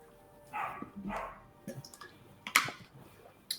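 A couple of faint, muffled dog barks come from a distance, followed by scattered clicks and taps.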